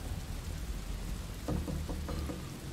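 Steady rain and rumbling thunderstorm ambience from the video game Desperados 3, a continuous wash with a few brief louder bursts partway through.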